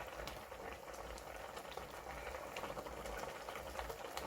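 A pot of pork kimchi stew boils at a steady, busy bubble, with a dense crackling texture that never lets up.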